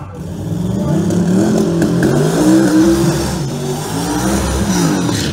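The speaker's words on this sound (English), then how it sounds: "twin turbocharged Chevrolet Camaro Extreme Racing Engines going to try to get down the racetrack tonight" A twin-turbocharged Chevrolet Camaro Pro Mod drag race car revs and accelerates hard during a qualifying session, a loud close roar with rising pitch sweeps, sustained for several seconds without talk.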